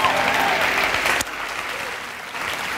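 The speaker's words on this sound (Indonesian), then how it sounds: "saya pengen kita tepuk tangan yang meriah buat Tuhan kita ya" A large church audience of several thousand bursts into loud, sustained applause that eases off midway and then swells again toward the end.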